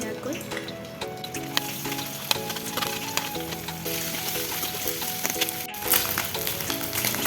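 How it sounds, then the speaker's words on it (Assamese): Paneer substitute frying in oil in a home kitchen, a steady crackling sizzle throughout with scattered clinks and light handling noises close by. "এতিয়া এইখিনি ফ্ৰাই কৰি লওঁ"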